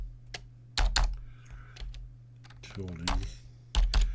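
Someone types a chmod command at a computer keyboard: short bursts of crisp keystrokes separated by pauses, while someone speaks briefly.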